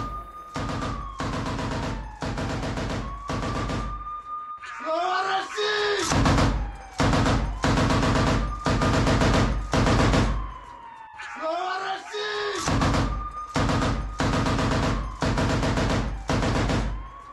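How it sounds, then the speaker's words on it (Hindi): A Wagner fighter hiding in a derelict building in Bakhmut fires on Ukrainian soldiers: loud, close bursts of rapid automatic gunfire repeat over and over, with a rising and falling whine between them. "वैगनर लड़ाका है जो एक बिल्डिंग में छिपकर कैसे यूक्रेनी सैनिकों पर गोलियां बरसा रहा है"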